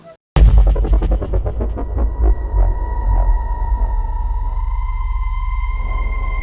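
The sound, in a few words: tension-building throbbing sound design hit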